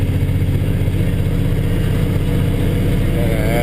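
A hauling truck's engine drones steadily and loud at around 24 to 25 mph through a town, held in a lower gear, with a constant low rumble and no pauses.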